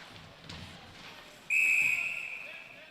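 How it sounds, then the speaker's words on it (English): A whistle blows right beside the microphone at a veteran ice hockey game between Auburn and MTSU, a loud, piercing blast cutting through faint arena murmur and lasting over a second before fading. "The whistle right beside the mic there, huh?"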